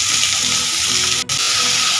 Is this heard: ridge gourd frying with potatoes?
yes